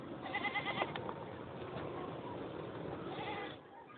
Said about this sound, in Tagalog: May kambing